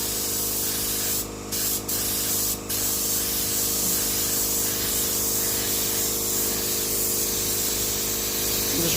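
Paint spray gun hissing steadily as it sprays custom paint onto a drift-spec Mazda RX4, a continuous close spray with a few brief breaks early on and no speech.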